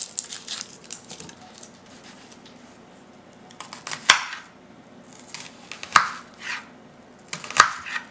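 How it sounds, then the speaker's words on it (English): A knife chops through a white onion on a cutting board, a series of quick soft cuts followed by three sharp, separate thuds of the blade striking the board, close and clear with no talking. "I'm gonna take a white onion, chop this end off"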